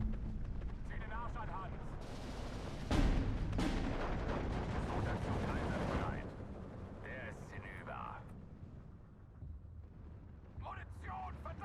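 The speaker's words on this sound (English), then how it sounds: "I'm going to hit those two MGs with the Mortar Strike" Mortar strike explosions boom in the video game Steel Division 2, a heavy burst and rumbling blasts in the middle, with someone talking over the battle noise.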